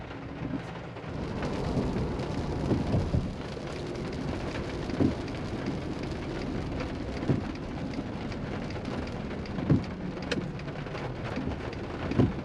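Heavy rain pours steadily at an Alabama public beach access in Orange Beach, a dense continuous hiss with occasional louder drips and gusts, and no voices.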